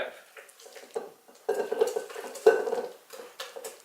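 A utensil stirs cream cheese into pound cake batter in a bowl, giving close, uneven scraping and clinking strokes with soft wet squelches, moderately loud, with no talk.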